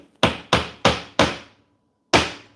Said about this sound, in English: excuse the hammering, but you know, this one is just a little tight